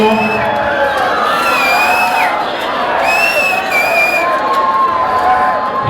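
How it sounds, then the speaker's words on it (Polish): Crowd at a wet T-shirt contest at a Polish event cheers and whoops, a steady near wash of shouting voices with high whistles and yells sustained throughout. "gorące brawa"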